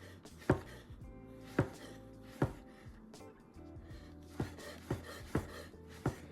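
A kitchen knife with a longer blade chops mushrooms in a steady rocking rhythm, about eight crisp, fairly close thuds against a cutting board, evenly spaced and alone without talk.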